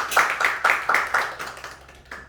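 A church congregation at a Sunday worship service claps in a quick, even rhythm, about ten crisp claps that slowly fade, heard without any speech.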